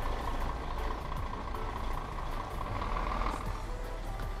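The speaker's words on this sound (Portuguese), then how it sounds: "esse caminhão aqui por dentro tem um barulho da gota" A truck engine drones steadily inside the cab in Euro Truck Simulator 2, a loud, constant low rumble with a faint intermittent beeping over it, no voices.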